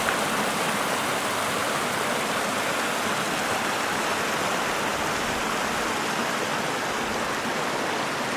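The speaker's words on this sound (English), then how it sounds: "So my map calls this stream Mono Creek." Mono Creek, a mountain stream flowing out of Pioneer Basin, rushes in a loud, continuous broadband wash of water close by, with no voices.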